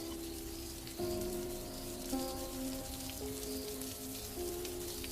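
Soft, steady rain falls as a sound effect in a Hindi horror story set during a cold rainy night, a faint continuous patter beneath quiet sustained background music tones.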